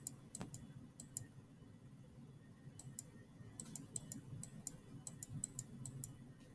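Repeated mouse clicks made while drawing a closed shape in Photoshop Elements, sharp and quiet, falling in an irregular series with some quick pairs and several well-spaced taps over a low background hum.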